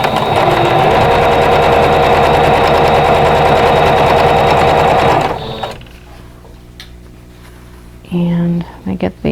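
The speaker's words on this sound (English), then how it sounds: "I'm going to press these rows and then sew them together" A sewing machine runs steadily and loudly for about five seconds, stitching rows of a vintage Honey Bee quilt block together, then stops, leaving a quiet room with a brief burst of speech near the end.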